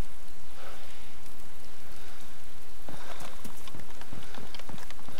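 Rain falls on the road in the survival game DayZ, a dense continuous patter that grows busier with sharper drops partway through, loud and close.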